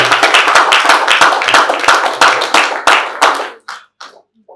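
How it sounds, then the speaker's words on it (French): Congregation at a church service clapping in a quick, strong rhythm, some cheering mixed in, before the applause thins out to a few scattered final claps. "Est-ce que vous pouvez les saluer par les acclamations?"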